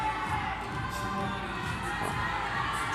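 Spectators at an under-17 bouldering semi-final in Curno scream and cheer continuously, a dense, loud crowd roar with shouts rising over it throughout.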